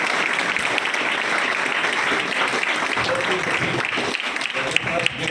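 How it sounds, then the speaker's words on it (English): An audience at a training academy gathering claps for a candidate recommended for the NDA, a steady round of applause with voices mixed in alongside it. "So let's give him a big hand of cheer."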